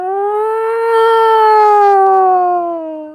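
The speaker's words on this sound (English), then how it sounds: "cacophony of siren sounds being sounded off" A single wailing siren tone rising and slowly falling over a few seconds, loud and clear with no other sounds.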